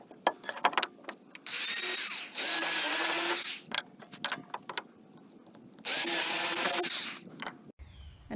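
Power drill boring dowel holes in scrap wood for a doll stand: three loud sustained whirring bursts of drilling, separated by clicks and handling knocks on the workbench.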